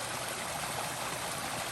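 Steady rushing flow of a community water stream near McCarthy, Alaska, a close, even wash of water with no speech over it.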